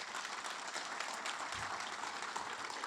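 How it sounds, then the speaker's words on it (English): A startup pitch competition crowd applauds its sponsors, a dense, even wash of clapping that holds steady for a few seconds, sounding fairly distant and faint. "And now, on with the rally with your last round of applause for the sponsor group."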